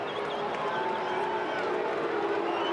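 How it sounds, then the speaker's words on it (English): Broad, steady roar of a big stadium crowd at an AFL football match, Fremantle Dockers versus Adelaide Crows, filling the whole stretch at even loudness with no break. "Big crowd roar as he runs in."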